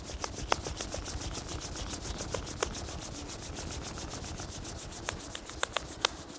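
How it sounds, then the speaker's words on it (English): Palms rubbed briskly together during a yoga session, a soft continuous friction hiss close by with a few faint clicks over quiet background noise. "Rub your palm."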